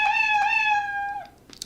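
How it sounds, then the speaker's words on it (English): A cartoon cat meow sound effect plays once from a Scratch animation project, a clear, sustained tonal meow lasting about a second before trailing off into quiet. "The R, when I click the space bar, he says meow."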